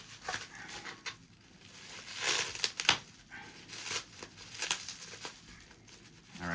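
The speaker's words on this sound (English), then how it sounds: "I want to go ahead and take this out of the bubble wrap" A router is pulled free of bubble wrap, giving irregular crinkling and crackling plastic rustles in close bursts throughout, some sharper snaps standing out, with no talking.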